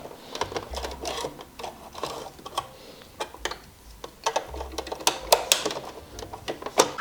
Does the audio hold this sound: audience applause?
no